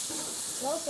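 Venison smash burgers sizzle on a hot griddle with a steady, bright hiss, while a voice murmurs faintly underneath.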